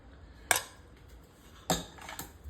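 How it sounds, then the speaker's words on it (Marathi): Cooked bhagar is served from a pot into a bowl, with two sharp metallic scrapes and clinks of a spoon against the vessel and a softer tap after, otherwise quiet. "आता ही भगर आपण एका प्लेटमध्ये छान बाउलमध्ये काढून घेतो आहोत"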